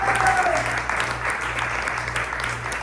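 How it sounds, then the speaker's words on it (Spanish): Congregation at a church sermon breaking into loud, sustained applause that fills the room evenly from start to finish, with no voices above it. "¿Le puede dar un fuerte aplauso a la gloria de Dios?"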